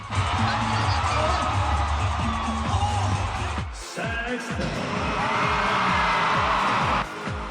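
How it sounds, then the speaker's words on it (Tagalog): Fans at a reunion concert roar and cheer in a loud, dense crowd wash, with music thumping underneath and a brief dip midway before the shouting surges back. "Mas lumakas ang hiyawan sa pangmalakasang opening"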